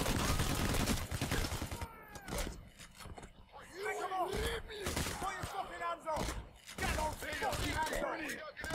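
Rapid gunfire crackles through a Payday: The Heist bank-robbery shootout, bursts of shots and impacts mixed with game clamor while someone speaks over the action.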